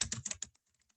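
Rapid keystrokes on a computer keyboard while entering slide notes, a close burst of clustered clicks for about half a second, then a few sparse, softer taps trailing off into quiet.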